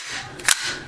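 Working the pump action of a 1935 Winchester Model 1906 .22 LR rifle gives a single quick, crisp metallic clack, close and isolated, in an otherwise quiet room.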